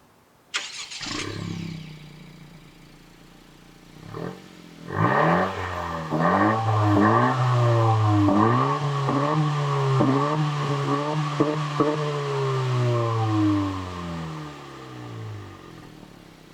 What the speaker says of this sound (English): let me give a few revs. I'm gonna start the car up and you guys can see how it sounds